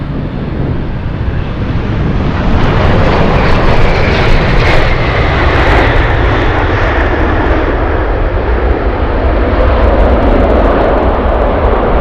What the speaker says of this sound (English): We have Atlas flying in from Shanghai.